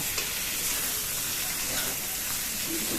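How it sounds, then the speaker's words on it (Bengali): Pointed gourd coated in spice paste fries in a pan with shrimp, producing a dense, constant close-up sizzle and hiss as it is stirred. "এখন এটাকে খুব সুন্দর করে মশলাটাকে দিয়ে নাড়িয়ে নেব"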